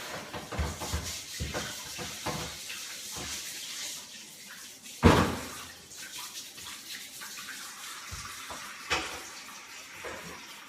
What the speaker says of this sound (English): Pan goes in the sink. Takes about 2 seconds to wash off.